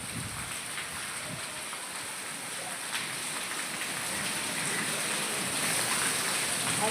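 Steady rain falls outside, a broad, even hiss of drops on surfaces that grows slightly heavier over time, with no voices.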